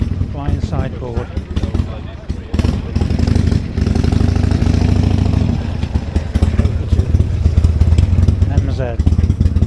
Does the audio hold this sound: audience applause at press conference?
no